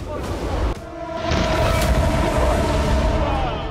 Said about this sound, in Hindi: ब्लास्ट कितना जबरदस्त और भयावह था